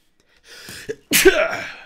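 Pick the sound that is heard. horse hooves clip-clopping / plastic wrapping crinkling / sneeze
sneeze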